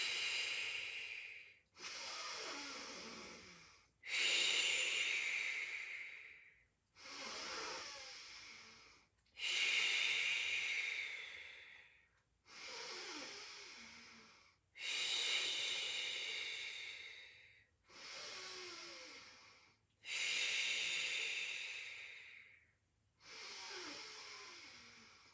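Ten slow, forceful exhales during a Pilates exercise, each a breathy hiss of about two seconds separated by quiet inhales, evenly paced, close to the microphone and with no talk.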